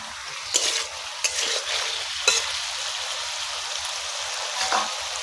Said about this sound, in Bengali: আমাদের সবজিটা একটু নাড়াচাড়া করে দিলাম